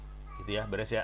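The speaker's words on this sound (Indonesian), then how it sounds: "ada kucing di belakang" A cat meows a few short times in the background while someone speaks over it.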